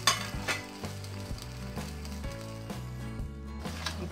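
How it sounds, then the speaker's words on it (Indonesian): Shrimp in sauce sizzling in a pan while being stirred over raised heat, a steady close frying hiss with scraping stir noises, under continuous tonal background music and no talk. "kita besarkan apinya, kita aduk-aduk hingga dia meresap"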